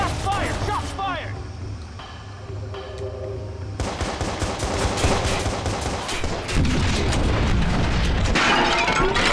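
Rapid bursts of gunfire and heavy shots from the video game Watch Dogs, set around getting into a prison, crack out loud and close in dense volleys over game music and effects, with a player shouting excitedly throughout.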